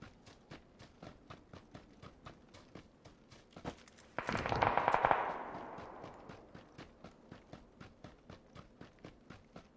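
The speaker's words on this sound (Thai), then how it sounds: "ยิงรถระเบิดเลย" In the battle royale video game PUBG, a burst of gunfire and a loud blast erupt midway through, over steady rhythmic hoofbeat-like footsteps that run throughout at a fairly close, moderate level.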